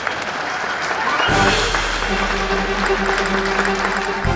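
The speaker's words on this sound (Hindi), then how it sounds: "अब ताली बजाओ।" A crowd claps in sustained, loud applause that starts abruptly after a brief moment and continues steadily, while a low hum or drone runs beneath it.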